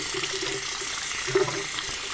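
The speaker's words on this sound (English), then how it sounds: "I'm going to rinse out my brush." A shaving brush is rinsed under a running bathroom tap, the water pouring in a steady hiss and splash that holds at an even level throughout, fairly quiet and without voices.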